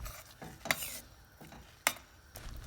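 Tur dal powder being stirred into simmering sambar in a single pot, with two sharp scraping strokes of the spoon against the pot over a quiet bubbling background and no talk.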